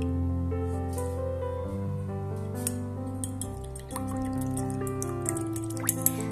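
Milk is poured into a bowl holding one egg, making a continuous liquid trickle with a few small clinks near the end, heard under steady background music.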